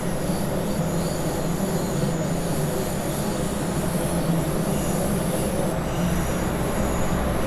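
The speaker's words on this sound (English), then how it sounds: "That track noise keeps cutting in and out." Class 612 diesel railcar running on the Tharandter Rampe in Train Sim World 2, steady continuous rail and wheel rumble with squealing wheels, loud and close throughout with no talk.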